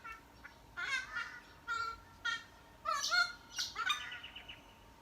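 A large black and white bird sings outdoors in a quiet natural setting, a series of clear, melodic phrases in short bursts with brief pauses, moderately distant over soft background hiss.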